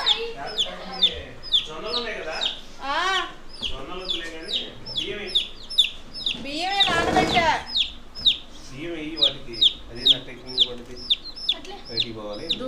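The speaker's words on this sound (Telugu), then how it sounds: "అవి ఒక కోడి పిల్లలు" Many small chicks peep and chirp continuously, high and busy, close by, with a brief burst of louder fowl noise and some talking in between.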